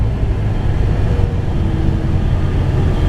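A steady low mechanical hum and whoosh runs without a break, like an air conditioner unit running nearby.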